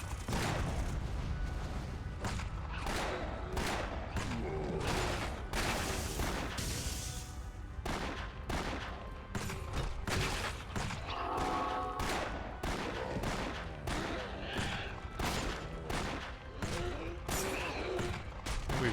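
Rapid gunfire from a game weapon in Torchlight, a fast-firing gun, rattles continuously in dense bursts at steady high loudness throughout, with a voice talking at points under the shots.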